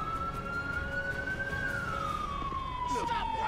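In GTA 5, an ambulance siren wails with one long tone that rises, then slowly falls. It sits under a steady rumble of traffic, with a brief voice near the end.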